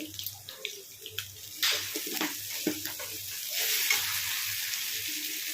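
Ginger garlic paste and curry leaves sizzle and fry in hot oil in a pan, a steady close crackle with occasional stirring scrapes and bursts of spitting, with no voices.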